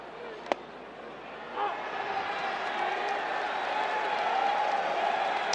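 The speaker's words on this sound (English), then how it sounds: "He gets a cheer from the crowd for throwing a strike." A baseball stadium crowd swells into a sustained cheer after a strike, a broad distant roar rising and holding steady, with a sharp knock near the start.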